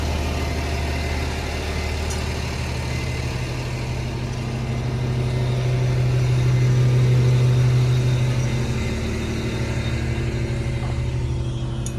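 A hot, hard-worked crane engine idles with a low, continuous rumble and a deep hum swelling slightly midway, running alone without voices.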